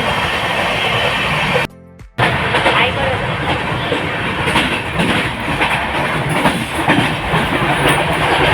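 Steady rumble and rhythmic clatter of a moving train heard from inside a carriage, briefly cut out early on, then continuing loudly.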